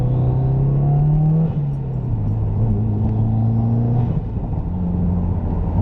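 A 2015 Subaru WRX engine with a new intake drones steadily and loudly, holding 3,500 rpm in second gear, with a brief drop in pitch partway before climbing again.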